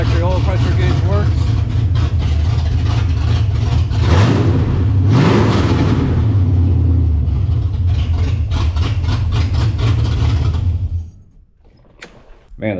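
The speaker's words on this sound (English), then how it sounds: "Man, this car sounds good." Ford Foxbody Mustang V8 with GT40-P heads and new headers, revving loudly and steadily up close for about ten seconds before cutting back to a quiet idle; someone talks over the engine.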